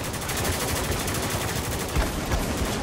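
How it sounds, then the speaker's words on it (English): Sustained automatic gunfire in Spec Ops: The Line, loud, rapid and continuous bursts packed together, close and dense with a few heavier thumps mixed in. "We're taking heavy fire!"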